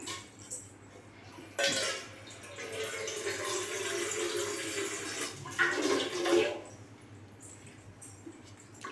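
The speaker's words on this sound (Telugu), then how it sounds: "ఇప్పుడైతే ఇందులో కొంచెం వాటర్ తీసుకొస్తాను నేను." Water gushes and splashes steadily into a container for several seconds, fairly close, then tapers off.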